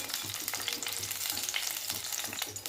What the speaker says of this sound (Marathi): कांदे छान थोडेसे मी भाजून घेतले